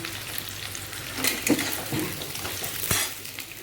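Malabar spinach stems and prawns fry in hot oil with a steady, dense sizzle, broken by a few louder crackles and pops and a light scrape of stirring, with no talking.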